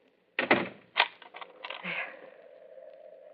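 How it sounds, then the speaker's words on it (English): A radio drama sound effect of a door being locked: a sharp clack, then a second knock-like click, then a brief rattle of the latch and bolt, all close and sparse against a quiet background. "Would you mind standing here until you hear me lock my door?"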